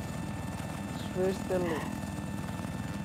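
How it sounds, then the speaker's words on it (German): A video game enemy helicopter throbs continuously with a steady rotor pulse, loud and constant, while someone talks briefly over it. "Ich hab den feindlichen Helikopter gerettet."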